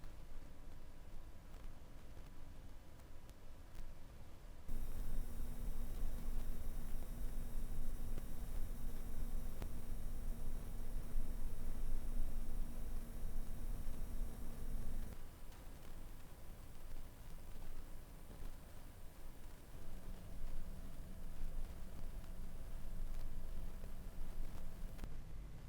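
A graphics card in a gaming PC emits a steady, high-pitched electrical whine while running Warframe. The tone switches on abruptly, holds, then shifts to a lower buzzing pitch partway through, over faint microphone static.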